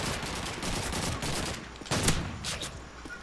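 Bursts of gunfire in Call of Duty 2, loud overlapping shots and short volleys crackling in an irregular rhythm, with a heavier cluster near the end.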